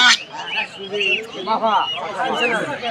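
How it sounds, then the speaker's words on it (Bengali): Geese honk and squawk in a busy poultry market selling ducks and chickens, brief calls rising under steady, close bargaining talk from several people. "তিনটা হাসা নিয়ে আছে রাজ হাঁস"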